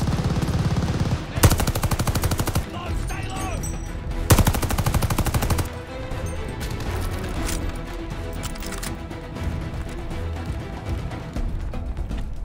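Gunfire in the Call of Duty Vanguard campaign, with loud rapid machine-gun bursts and scattered shots amid battle noise, repeating throughout.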